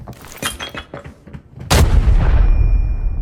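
A few sharp gunshot-like cracks, then a loud, close grenade blast in the video game Arena Breakout that booms and lingers into a rumbling tail.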